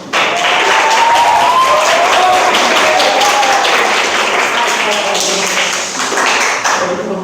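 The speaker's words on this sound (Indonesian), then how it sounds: "Kita kasih tepuk tangan dulu." Classroom applause for a presenting group: loud, sustained clapping from many students continues for several seconds, with voices faintly mixed in.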